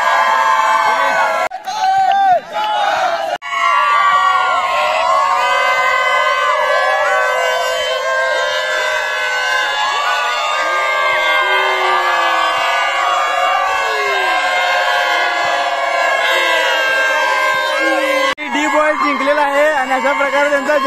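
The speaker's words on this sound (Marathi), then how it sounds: "अशा प्रकारे त्यांचा जल्लोष या ठिकाणी पाहू शकता तुम्ही" First-year college students shout, whoop and cheer loudly after winning the first day of an inter-college sports event, a dense, close crowd roar that stays sustained and energetic throughout, with excited voices overlapping.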